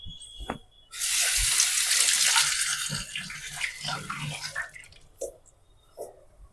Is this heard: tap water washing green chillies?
yes